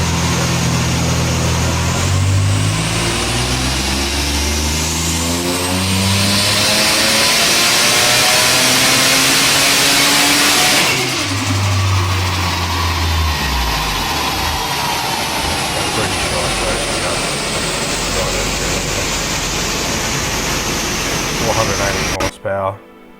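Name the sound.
VY V6 turbo Commodore engine revving on a dyno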